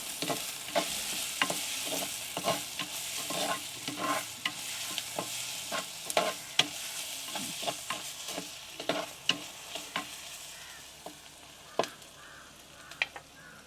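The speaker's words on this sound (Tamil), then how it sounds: "அடுத்ததாக கருவேப்பிலை போட்டுக்கொள்வோம். எல்லாத்தையும் நல்லா கிளறுவோம்." Curry leaves fry in a clay pot over an earthen stove while a spoon stirs them with onions, giving regular scraping knocks against the pot over a soft steady sizzle, close up.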